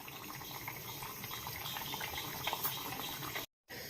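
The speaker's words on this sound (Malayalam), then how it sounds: "നല്ല പോലെ ഒന്ന് തിളക്കട്ടെ." Tamarind curry with small onions simmers and bubbles in a pan, a steady close gurgling hiss with brief pops that cuts out for a moment near the end.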